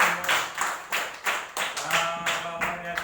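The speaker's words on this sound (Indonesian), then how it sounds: "Kita beri tepuk tangan" A classroom of students claps together for a presented group, fairly close, with a brief irregular patter of hand claps in uneven bursts across the short stretch, accompanied by faint murmuring voices.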